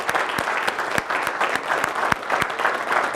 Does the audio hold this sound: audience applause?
yes